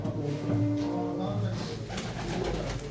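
Pigeons from Pali Jhurerhi coo nearby in a low, throaty murmur over steady background noise, with a few soft bird sounds and faint voices mixed in.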